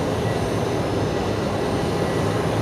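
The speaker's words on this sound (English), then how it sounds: "They're just beginning their takeoff roll now." A Qantas airliner begins its takeoff roll on runway 19 left at Brisbane Airport, heard as a steady, broad engine roar from some distance that holds level throughout, with no talk.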